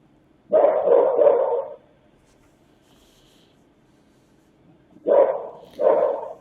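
A dog barks in two short clusters of loud barks, heard outdoors on surveillance camera audio, with quiet background in between.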